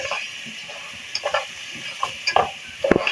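Almond halwa mixture being stirred and roasted in a pan, with soft scraping strokes and small clicks over a continuous gentle sizzle, close and fairly loud, no voices.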